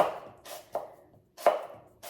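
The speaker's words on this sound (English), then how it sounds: "I like kind of the roughness of just hand chopping it" Napa cabbage hand-chopped with a knife on a board for a fall salad, crisp chops landing in an uneven rhythm, a few close, clear strikes with short pauses between.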